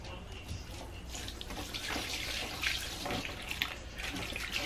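Soda ash solution being poured into a dye bath for overdyeing fabric, a steady splashing pour of water lasting several seconds, fairly close and without speech over it.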